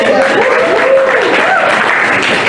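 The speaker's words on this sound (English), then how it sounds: "I thought you would clap." A church congregation clapping during a service, the applause loud and continuous, with singing or vocal tones running over it.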